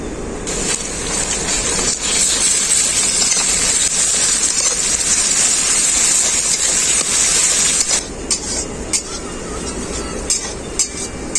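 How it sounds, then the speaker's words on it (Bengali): Garlic paste sizzles steadily in a hot pan of fried onions for a desi chicken curry, a loud continuous hiss that eases after several seconds into a quieter crackle with faint clinks. "এখন দেব রসুন বাটা"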